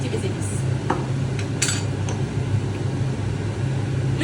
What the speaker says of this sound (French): Donc je rajoute encore mes épices. Bien sûr avec ma cuillère qui vient de la Turquie.